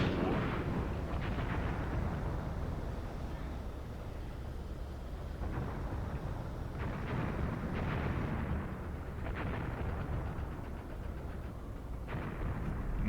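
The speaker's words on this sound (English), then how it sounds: "That's the last of my artillery preparation there." Artillery fire in the war game Graviteam Tactics, on the Vinyagolovo battle, rolls on as a continuous barrage of deep, rumbling booms, some sharper thuds standing out, with no voices.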